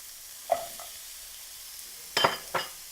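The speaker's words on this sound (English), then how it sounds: "We are now going to add the onions" Chicken frying for a curried stew gives a faint, low sizzle, broken by a soft knock and then a couple of sharper clatters as onions go into the pan.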